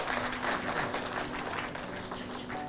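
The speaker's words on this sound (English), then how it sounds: "Please give him a big round of applause" An audience at a university conference gives sustained applause for a Best Teacher Award, steady, dense clapping at moderate volume, slowly tapering near the end.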